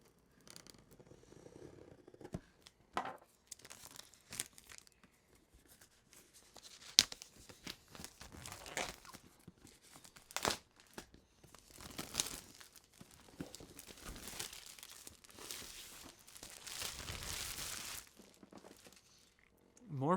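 Plastic packaging crinkles and rustles in bursts while a modular 80+ Gold power supply is unboxed, with scattered tears and scrapes at close range under intermittent talk.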